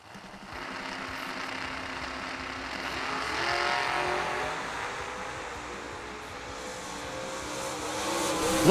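Drag racing cars, a Chevrolet Lumina and a Camaro, roar past at a bracket race, a sustained engine rush that swells and fades with no talk.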